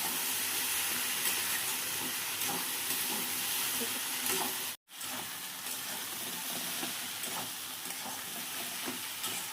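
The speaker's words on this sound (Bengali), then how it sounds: "কচু শাকের ভাজাটা হয়ে আসছে।" Taro greens frying with shrimp in a pan hiss and sizzle steadily at a low level, with a brief drop to silence midway before the frying resumes.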